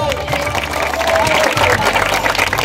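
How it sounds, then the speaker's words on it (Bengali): An audience claps for two players after a one-minute game at a cultural evening during a Puri trip, a dense, fairly loud patter of hands mixed with crowd murmur and talk. "দুজনের জন্যই একটু হাততালি হয়ে যাক"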